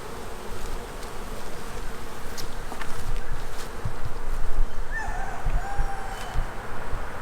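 Honey bees buzz steadily at an open hive during an inspection, a dense continuous drone close by with no talk.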